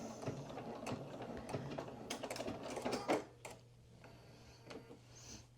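A domestic sewing machine stitches and then backstitches across a seam to anchor a pocket top on pants, its rapid ticking mechanism running fairly quietly over a steady low hum.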